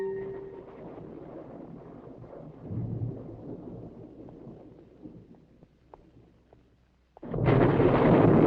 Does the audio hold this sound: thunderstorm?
yes